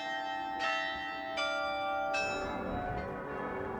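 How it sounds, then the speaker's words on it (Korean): Bells in Passau play a melody: three distinct strikes ring out about a second apart, each leaving long, overlapping sustained tones that blend into a resonant wash. "시민들에게 위험을 알리던 종소리가 아름다운 연주로 되살아나는 이곳에서"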